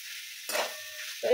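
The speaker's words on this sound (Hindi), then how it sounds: "ब्रोकोली मुझे मिक्स करदेवि।" Broccoli frying in a pan is stirred, giving a soft steady sizzle broken by short scraping stirs near the middle and end, close and fairly quiet.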